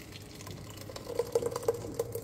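Water being added to soaked pearl millet in a mixer jar, a soft trickling pour with small splashes and drips that grow more distinct toward the end, quiet and close.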